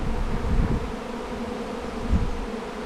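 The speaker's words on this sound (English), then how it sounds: "There's some bees kind of hanging around the kit." A swarm of honey bees buzzes close by around a hive, a dense continuous drone with slight swells in loudness and no voices.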